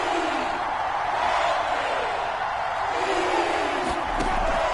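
A football stadium crowd in a franchise-mode video game roars in a dense, steady wash of cheering that swells slightly, with a thud near the end.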